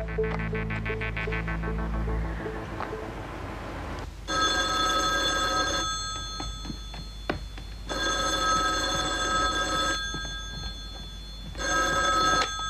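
An old-style telephone bell rings in repeated long bursts separated by short pauses, loud and close, with a busy indoor background and no talk over the rings.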